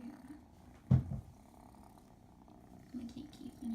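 A foster kitten purrs softly and steadily at close range, with a brief bump of handling noise partway through.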